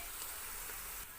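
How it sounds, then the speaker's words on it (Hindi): Onions fry in a pan for chicken pulao, cooking toward light brown, with a steady, soft sizzle and hiss that continues without pause. "जी प्याज हो रहा है, इसको हमने लाइट ब्राउन करना है"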